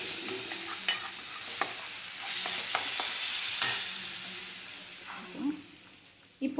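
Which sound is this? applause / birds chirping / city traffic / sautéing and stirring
sautéing and stirring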